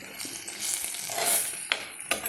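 Cashews sautéing in oil in a pan for a green peas curry: a steady, close sizzle with a few sharp stirring scrapes near the end, no voices.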